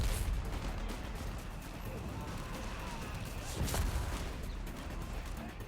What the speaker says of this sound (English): Mortar overhead, providing fire support as well.